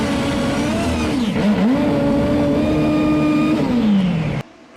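A nitro Top Bike drag racer at full power spins and smokes its rear tyre, a loud sustained engine roar that wavers as the tyre loses traction, then falls in pitch and cuts off abruptly.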